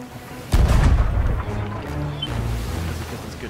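A ship's cannon fires in the pirate video game Sea of Thieves, one sudden heavy boom followed by a rumbling decay over sea and wind ambience.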